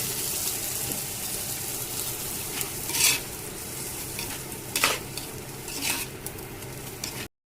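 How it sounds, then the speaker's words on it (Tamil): Chicken sizzles steadily as it is sautéed with a ground spice paste in a pan, with a few scraping stirs of the spoon cutting through the constant frying hiss, close up and without talk. "சிக்கன் நல்லா கழுவி வச்சு சிக்கனை இதில் போடணும்"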